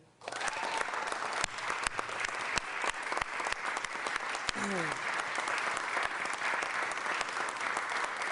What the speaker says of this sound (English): Ladies and gentlemen, give a huge round of applause to our next managing director, Adam Thiel.